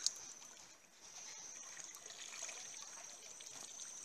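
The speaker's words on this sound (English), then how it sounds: "And then the clothes just get a nice dip in the river." Clothes being rinsed by dipping them in a river: a quiet trickling and dribbling of water, soft and close, with a faint steady high tone in the background and no speech.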